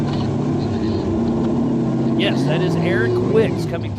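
An off-road race car at a desert racing event in Moab, Utah, passes with a steady, droning engine under continuous commentary, its pitch shifting slightly as it goes by.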